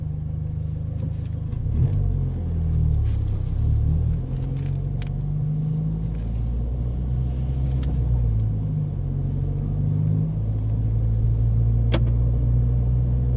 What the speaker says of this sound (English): When you're cruising, there's like a constant suction noise.